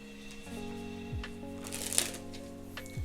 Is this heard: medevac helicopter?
no